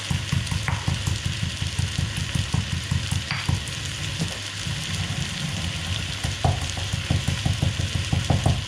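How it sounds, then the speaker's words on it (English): Peppercorns are ground in a hand pepper grinder, making a steady run of close, rhythmic crunching ratchet clicks throughout, with no talking. "So I'm just going to grind up some peppercorns"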